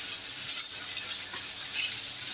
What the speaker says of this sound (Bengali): ওদিকে তেলাপিয়া মাছগুলো সব ভেজে নিচ্ছি বন্ধুরা।